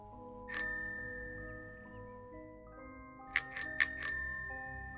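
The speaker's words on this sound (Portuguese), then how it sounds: "essa bicicleta tinha aqueles sininhos, que quando apertava com o dedo e soltava, fazia um barulho, tipo uma campainha" A bicycle bell rings once, then after a pause rings in a quick burst of four bright dings, close and clear over quiet background.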